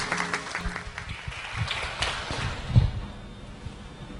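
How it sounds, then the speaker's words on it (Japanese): An audience claps to welcome actor Kanata Hongo onto the stage at a Japanese fan event, a soft and steady patter of many hands that runs throughout. "それでは皆さん盛大な拍手で迎えていただきたいと思います"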